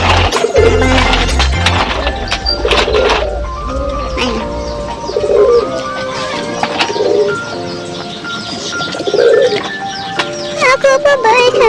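Racing pigeons arriving home after a 128 km training flight, with repeated soft coos and chirps over a steady low rumble, while several people talk throughout.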